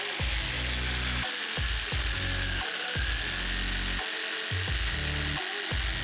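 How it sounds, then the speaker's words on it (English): A jigsaw cuts wood for a console table, run along a clamped guide, buzzing loudly and steadily with its pitch dipping rhythmically as the blade bites and slows through the board. "a guide or fence that I can then run my jigsaw along"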